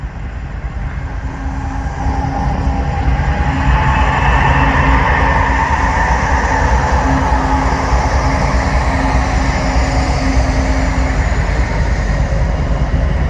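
A freight train rumbles past close by, a loud, steady roar with rhythmic clatter of wheels on rails, building slightly and holding at full volume throughout.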